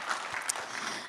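Brief burst of audience applause at a lecture series conversation event, steady dense clapping from a seated crowd, moderately loud.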